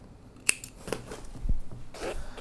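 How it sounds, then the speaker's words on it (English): Scissors snipping yarn while finishing a crocheted amigurumi unicorn ear, heard as one sharp close snip followed by soft handling rustles in an otherwise quiet setting. "Cut your yarn."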